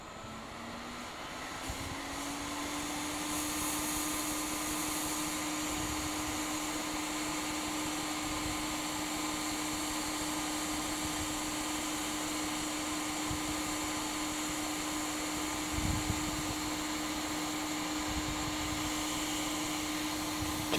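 An infrared automatic BGA soldering station heats a PCH chip on a motherboard with a steady whirring drone that rises in pitch at the start, then holds even and continuous with a few faint clicks.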